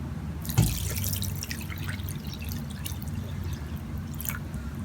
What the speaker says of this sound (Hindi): मैं इसमें डालूंगी पानी,